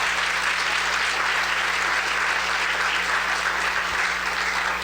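An audience applauds steadily and loudly at a talk by the head of the Smithsonian, a dense unbroken wash of clapping that carries on throughout with no voices.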